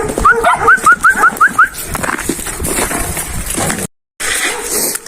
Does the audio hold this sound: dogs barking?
yes